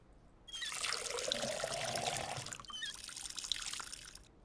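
Water poured onto plants in the video game Schedule I, a trickling pour that starts abruptly, runs steadily for about four seconds with a few drips, then stops.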